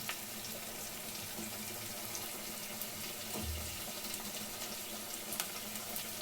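Water drained from soaked sprouted beans and greens pours out in a steady, faint splashing stream, with a short gurgle partway through.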